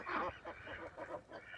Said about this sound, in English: Oh, hey, ducks.